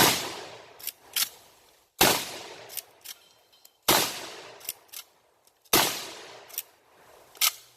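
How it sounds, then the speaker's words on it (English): A Chiappa 1887 Mare's Leg lever-action shotgun fires double-aught buckshot at a seed sower, four loud, sharp blasts about two seconds apart, each followed by a decaying echo and the clack of the lever cycling. "I'll blow this seed sower away with some double-aught buckshot"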